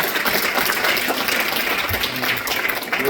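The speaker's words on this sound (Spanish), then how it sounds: "Dale un fuerte aplauso." Congregation at a church service giving a loud round of applause, dense continuous clapping filling the whole stretch at steady volume, with a faint voice or two mixed underneath.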